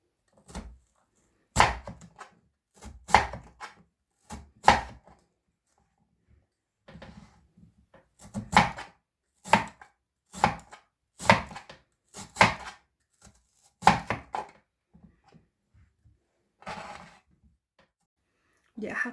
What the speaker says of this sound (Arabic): بدي أقطع البطاطا أنا لشرائح. أنا عم بستعمل هاي القطاعة